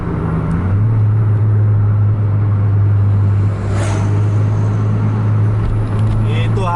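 A Scania bus engine at full throttle in a night highway run, a loud steady roar with a low droning hum that holds nearly unchanged throughout, with faint voices over it.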